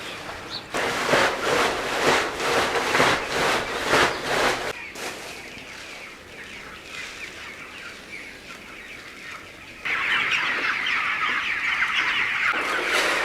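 Chickens on a poultry farm cluck and call in repeated bursts close by, with a steadier stretch of flock chatter and background noise between them, no talk.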